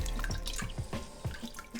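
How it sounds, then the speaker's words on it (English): Juice from half a lemon squeezed over a pot of salted water falls in a quick run of distinct, close, plinking drips into the water, with no talk over them. "squeeze in half a lemon."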